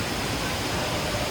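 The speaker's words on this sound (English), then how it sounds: "I think, tallest indoor waterfall." The HSBC Rain Vortex, a tall indoor waterfall at Jewel Changi, gives off a steady, dense rushing roar of falling water, loud and unbroken throughout.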